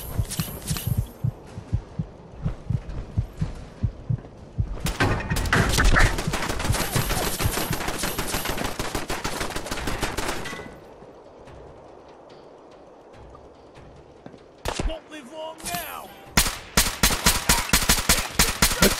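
Rapid bursts of gunfire in the video game Fallout 4, loud and close, coming in dense volleys with brief pauses between, then sharp separate shots.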